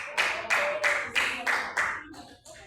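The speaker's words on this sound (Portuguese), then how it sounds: "as palmas para Jesus" A church congregation claps for Jesus in six slow, even group claps, each a crisp burst fading out, with voices faint underneath.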